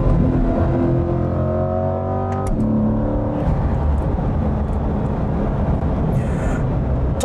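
A 2020 C8 Corvette Stingray with a high option spec, driven in sport mode, drops through downshifts, its engine note stepping in pitch with loud, continuous revving heard from close by.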